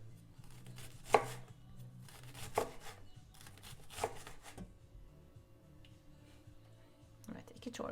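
Green onion being chopped finely with a knife on a board, a few sharp, spaced knocks standing out over steady low background hum.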